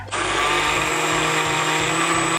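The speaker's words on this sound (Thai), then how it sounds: "ปิดฝาแล้วก็ปั่นอีกรอบนึงค่ะ" A blender whirs steadily, blending a creamy black pepper salad dressing, a loud continuous motor drone that starts abruptly and holds even throughout, close up with no talking.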